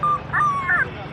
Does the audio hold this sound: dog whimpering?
yes